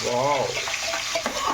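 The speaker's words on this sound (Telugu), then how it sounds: "ముందుగా నూనెలో పచ్చిమిర్చి, కరివేపాకు ఇలా వేయించుకోవాలి." Green chillies and curry leaves frying in hot oil for a Telugu-style prawn curry, a steady close sizzle with stirring, while a voice briefly exclaims over it.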